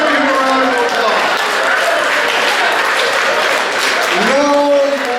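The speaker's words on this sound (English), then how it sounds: "Give him a round of applause" Crowd applause at an indoor gathering, loud sustained clapping with some cheering voices throughout, swelling briefly near the end.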